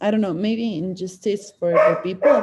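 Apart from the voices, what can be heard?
dog barking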